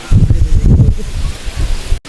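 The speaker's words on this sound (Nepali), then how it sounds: "तर अलिकति हावा लाग्यो होइन।" Wind gusting across an open beach during a barbecue at Wedel beach, a steady low buffeting roar that is strongest early and eases off, heard close on the microphone with no clear talk.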